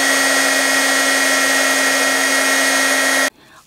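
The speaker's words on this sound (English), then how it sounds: "the heat gun has taken the embossing powder and it's just heated it where it's completely permanent" A heat gun melting embossing powder on painted white tissue paper, running as a loud, steady whirring hum that stops abruptly near the end.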